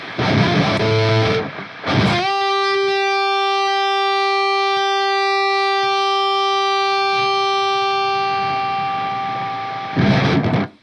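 Electric guitar played through a custom Line 6 Helix preset into an Own Hammer Mesa 4x12 closed-back cab, with delay and reverb off: heavily distorted chords, then one long sustained note ringing for about eight seconds before more chords.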